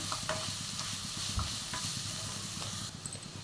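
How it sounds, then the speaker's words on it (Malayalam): Onions sauté in a pan for chicken mappas, a quiet, steady oil sizzle broken by soft, repeated stirring scrapes from a spoon. "ഉള്ളി വരണ്ട് വരുന്നവരെ നമുക്കിതൊന്ന് വഴറ്റിയെടുക്കണം"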